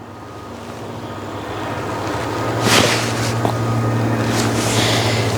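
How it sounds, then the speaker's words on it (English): A pneumatic air gun blasts compressed air in a workshop while working on an excavator's injectors, a loud steady hiss with short sharper bursts partway through. "I'll bring my air gun up here."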